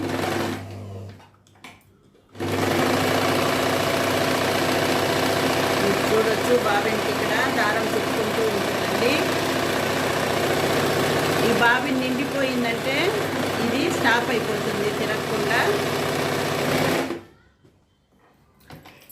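A Usha Stitch Queen sewing machine motor whirs steadily for about fifteen seconds, a close, even mechanical hum starting and stopping abruptly, with brief speech at the edges.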